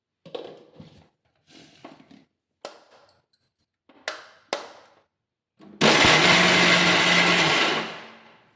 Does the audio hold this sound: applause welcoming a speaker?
no